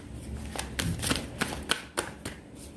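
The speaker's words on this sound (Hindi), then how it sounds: "चलो और कार्ड्स निकालते हैं" Tarot cards shuffled and drawn by hand, a quick run of crisp papery flicks and slaps, close and fairly loud, with uneven rhythm over about three seconds.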